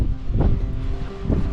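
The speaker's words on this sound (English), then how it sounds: "I don't think you'll hear me for the wind, and I didn't put my wind slayer on" Steady wind buffets a microphone at the beach, a continuous low rumble with gusty swells and no voices.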